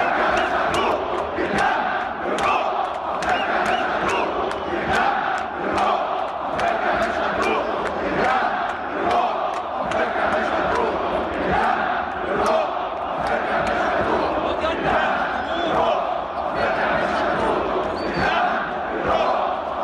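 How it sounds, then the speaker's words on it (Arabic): Al Ahly football supporters chant rhythmically in a stadium of about 30,000 to 35,000 before a match, a dense, loud crowd roar with repeated shouted pulses sustained throughout. "نشوف هتاف جماهير النادي الاهلي قبل المباراه للاعبي النادي الاهلي"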